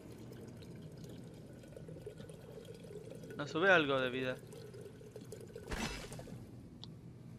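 A character drinks water in the sci-fi video game Prey, giving a brief gulping, pouring splash midway and another short watery burst after it, while someone talks over the game's low ambient hum.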